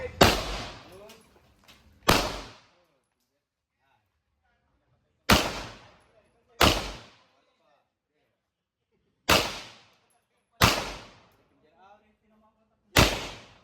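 Gunshots at a firing range, seven sharp close reports spaced irregularly over several seconds, each with a brief ringing decay, with people talking quietly between shots.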